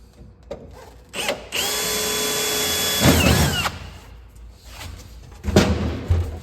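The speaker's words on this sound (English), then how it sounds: "we'll drill that" A power drill bores into a part during a motorcycle teardown, running loud and steady for a couple of seconds, then revving up again with a shifting whine, between shorter bursts and a few clunks of tools.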